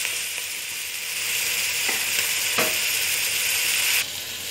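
Haleem masala, salt and turmeric frying with chicken and tomato in a pan, giving a steady loud sizzle with a few brief stirring scrapes and no voices.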